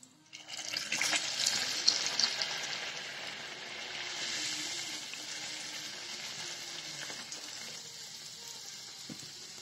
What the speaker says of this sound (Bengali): এখন ভেজে নেব সবগুলো। তেল দিয়ে দিয়েছি, তেলটা গরম হয়ে গেছে